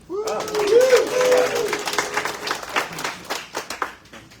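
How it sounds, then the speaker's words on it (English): Audience applause at a morning community gathering at a Pride Center, a burst of mixed clapping with a brief cheer that thins into scattered claps as a voice speaks over it. "round of applause for what she produced last week"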